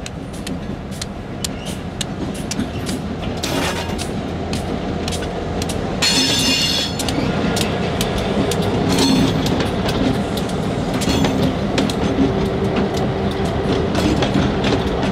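Georgia Central EMD Geep locomotives hauling train L781 roll past close and loud, a steady rumble with rhythmic clickety-clack of wheels over rail joints and occasional metallic squeals.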